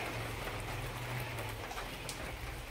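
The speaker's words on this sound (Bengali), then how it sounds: "কমে গেছে বৃষ্টি, কি বৃষ্টি," Rain falls steadily on a small kitchen garden, a constant even hiss with a faint low hum beneath and no voices.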